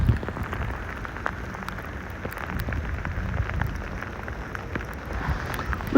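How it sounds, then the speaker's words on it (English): Heavy sleet mixed with rain pouring down during a New York City storm, a dense, steady hiss of pellets and drops striking surfaces close by, continuous throughout with no voices. "we are getting some really, really heavy sleet right now"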